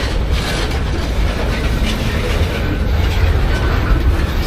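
A train rolls past on nearby tracks with a steady, loud rumble and grinding wheel noise that fills the whole stretch without letting up.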